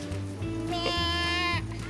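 A sheep bleats once at a farm or zoo animal enclosure, a short wavering cry standing out briefly over a steady low rumble of background noise.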